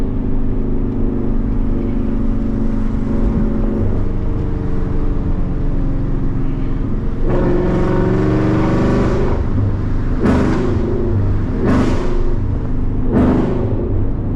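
Ford Mustang GT (2015–2023) with an aftermarket exhaust, rumbling at idle before a series of sharp throttle blips, each a loud, close bark that swells and falls away, repeated several times in quick succession.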